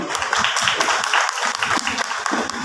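A loud, close crowd claps for a costumed tableau at a school Independence Day and Janmashtami celebration. Dense, continuous applause sounds throughout, with voices mixed in.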